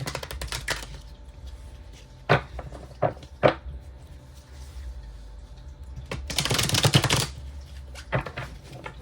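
Tarot cards shuffled by hand in a few separate bursts, a couple of sharp single riffles early on and a longer dense riffle later, close and fairly quiet against a low room hum.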